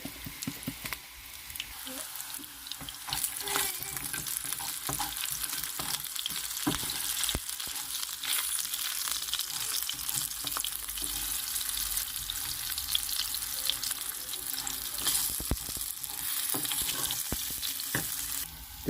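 Meatless meatballs seasoned with sweet paprika and crushed red pepper sizzle steadily in a pan, with periodic scraping and stirring clicks over the continuous frying hiss.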